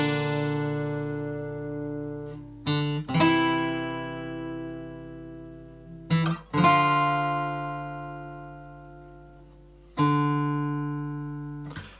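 Guitar playing the opening bars of the build from a song from The Last of Us Part II: clean picked notes and chords ringing out with long decays, a new phrase struck roughly every three to four seconds, solo and close.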